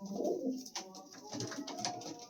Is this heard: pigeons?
yes